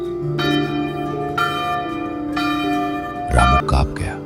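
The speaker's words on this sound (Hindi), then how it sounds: "घंटी अपने आप बज उठी।" A village temple bell rings out at night with several sustained metallic strikes that ring on with long decay, followed by a few heavier low thuds near the end.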